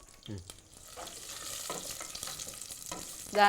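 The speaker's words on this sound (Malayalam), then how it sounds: "നെയ്യിലാണ് അണ്ടിപ്പരിപ്പും മുന്തിരിയും വറുത്തെടുക്കുന്നത്" Cashews fry in ghee in a pan, a steady close sizzle with crackling that swells toward the end. A faint tonal sound appears briefly near the start, but nobody speaks.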